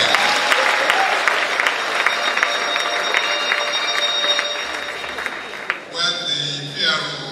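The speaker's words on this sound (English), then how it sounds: "So let's give her a round of applause again." An audience at an inaugural lecture gives a round of applause, with steady clapping carrying at a moderate distance for several seconds before fading, followed by someone speaking into a microphone.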